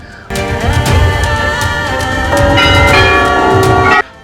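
Temple bells at the Chitai Golu Devta temple in Almora ring loudly and repeatedly, several metallic strikes overlapping into a continuous clangorous shimmer that cuts off abruptly.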